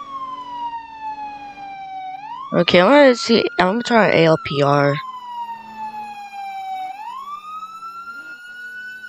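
A police car's auto siren in the Roblox ER:LC game wails in long rising and falling sweeps, loud and steady throughout, with someone talking briefly over it partway through.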